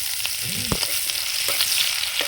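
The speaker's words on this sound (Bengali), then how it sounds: "এই যে ফোড়নটা ভাজা ভাজা হয়ে গেছে এবার পেঁয়াজটা দিয়ে দিচ্ছি" Close, continuous sizzling of onions frying in hot oil over tempered spices for a vegetable dish, with a few sharp scrapes and taps of a spatula stirring the pan.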